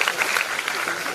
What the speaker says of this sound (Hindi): इनके लिए भी ताली बजाओ